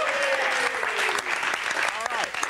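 Studio audience applauding on a television talk show, a steady dense patter of many hands clapping throughout with a voice talking over it.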